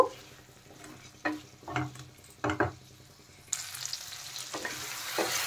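Taro and potato chunks stir-fried with tomato paste in a pan, a loud sizzle with several distinct scraping stirs, turning into a denser, brighter crackle partway through.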